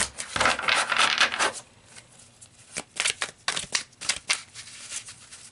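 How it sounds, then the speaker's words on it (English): Tarot cards being shuffled by hand: a run of dry, papery riffling and rubbing bursts, close and fairly loud, with brief flicks and pauses between them and no talking. "I feel a shuffle is in order, actually."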